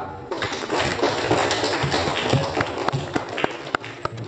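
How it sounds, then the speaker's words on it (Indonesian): Classroom applause for a student who gave a correct answer, a dense burst of many hands clapping at once, steady and fairly loud, then thinning out into a few scattered claps toward the end. "Beri aplaus pada kawan kita"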